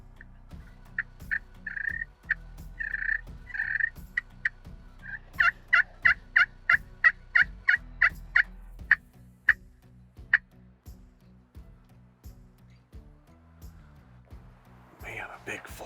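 Merriam turkeys in a flock, a run of rapid repeated calls and gobble-like bursts out in the open, moderately distant, with a quieter stretch afterward and a faint rustle at the end.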